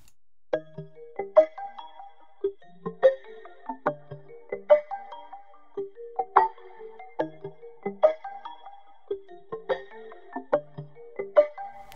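A vocoder in Cubase with the side signal mixed in parallel plays a rhythmic, robotic synthetic phrase of repeating plucky, tonal hits in a steady pattern, moderately quiet and alone.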